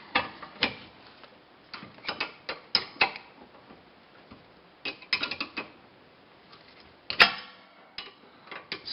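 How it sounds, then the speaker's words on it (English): A 13mm wrench turning the rear brake caliper bolts on a VW MK5 or MK4: close, sharp ratcheting clicks come in irregular bursts, with pauses between them and one louder clack near the end, and no talking. "This is not the best 13mm wrench I've ever used."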